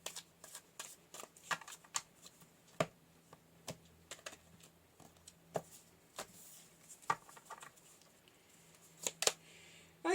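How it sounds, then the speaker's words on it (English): Tarot cards are shuffled close up in quiet, irregular riffles and soft slaps, a steady patter of card flicks with sharper snaps scattered throughout, and no talking. "we'll pull a few more tarot"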